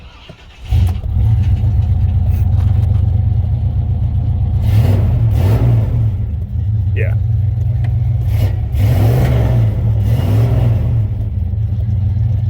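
A car engine runs at a loud, steady idle close by with a few rises in revs, its timing suspected retarded and fuel mixture running lean; a brief spoken reply is heard.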